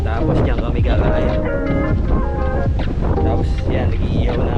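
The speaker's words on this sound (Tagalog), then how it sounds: "Malakas yung hangin." Strong wind sweeps a cliffside campsite above Cabangaoan Beach in Burgos, Pangasinan, a loud, steady, rumbling roar buffeting the microphone without letup, with voices faintly under it.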